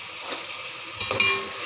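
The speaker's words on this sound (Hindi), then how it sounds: "मैं कीमे को ऐसे ही भून रही हूँ अभी प्याज में ही" Minced meat (keema) frying with onions in a pan, a steady soft sizzle with brief stirring scrapes near the end, close and continuous, with no talking.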